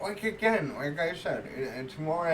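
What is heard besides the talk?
None of the usual background noises is heard.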